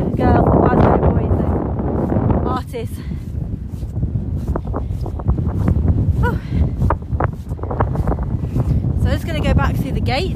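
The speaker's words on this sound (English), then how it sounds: "I'm trying to think which way I can get out of the wind, but it's everywhere." Strong wind at a rural lambing farm buffets the microphone with heavy low rumbling gusts, steady throughout, while a person talks over it.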